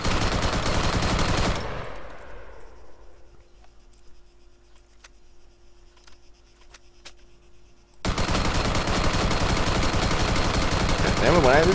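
Automatic rifle fired in bursts in Arma 3, loud dense rapid shots filling the start and end, with a quieter stretch between carrying faint tail decay and sparse clicks.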